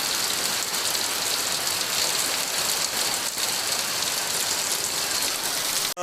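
Steady rain falls hard and loud, a constant broad hiss of drops on surfaces that continues unbroken throughout, with no voices.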